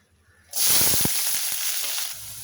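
Green chillies and onions drop into hot oil after a quiet moment, setting off a sudden loud, bright sizzle that holds strong and then eases slightly as it settles.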